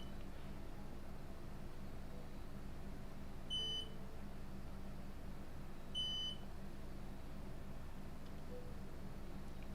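A computer motherboard under repair gives two short, identical electronic beeps a couple of seconds apart, sounding faint against a steady background hiss.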